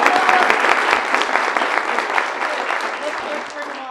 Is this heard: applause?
yes